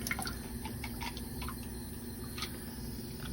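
Water poured into a cup packed with ice, a quiet trickle with scattered clinks and crackles of shifting ice cubes, close by and without voices.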